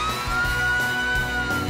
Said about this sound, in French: Ça ressemble à une sirène de pompiers.